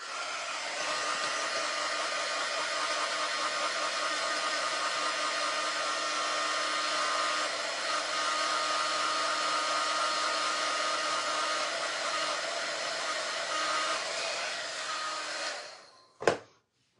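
A hair dryer blows steadily at close range while drying a lamb-shaped cutting board between cleaning passes, holding an even roar for about sixteen seconds before switching off with a brief clack.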